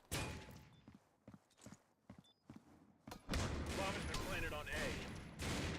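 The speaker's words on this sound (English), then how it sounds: "More shots going down." Pistol shots in a competitive tactical shooter match, a handful of separate cracks followed by a rapid burst of firing, with excited commentary talking over the action.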